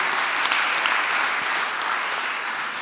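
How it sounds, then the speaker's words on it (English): A live audience at a Magnus Carlsen chess challenge event breaks into a full, close round of applause, dense and even throughout with no talking over it. "Big round of applause for Corine."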